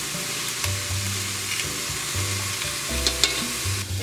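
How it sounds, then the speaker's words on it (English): Onion frying in a pan as the base for a spaghetti sauce with meatballs, making a continuous soft sizzle with a few stirring scrapes and a low hum underneath, no voices. "I always add the onion first because it needs to cook longer than the garlic"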